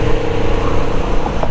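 Porsche GT3 engine droning loud and close in a brief continuous burst, a steady rumble with a slight rising tone.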